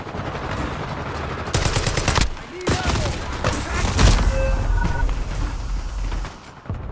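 Rapid gunfire in the Half Sword video game's zombies mode rattles loudly in sustained bursts with short pauses, close and harsh, layered with game noise and faint voices.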